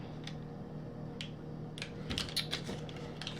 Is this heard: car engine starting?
no